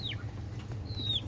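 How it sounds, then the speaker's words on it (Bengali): A hen calls from inside a rooftop pigeon cage: two short, high chirping cries over a quiet, steady hum, with no speech. "আর এই যে এটা আরেকজনদের মুরগি"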